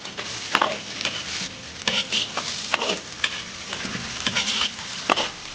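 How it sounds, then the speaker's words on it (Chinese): Cured pork hitting hot lard with scallion, ginger, garlic and dried chilies in a wok, loud close sizzling broken by repeated sharp scraping strokes of a spatula. "炒香以后下入腌肉"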